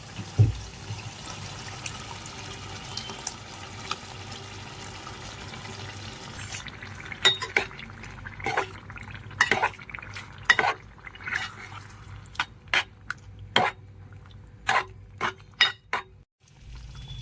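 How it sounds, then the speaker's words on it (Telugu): Horse gram soup (ulavacharu) is poured into mushroom masala curry in a pan: a steady, soft, liquid wash at first, then sharp clinks and taps of a utensil against the pan, with no talking. "ఇప్పుడు మనం ఇందులోకి ఉలవచారుని యాడ్ చేసుకోవాలి."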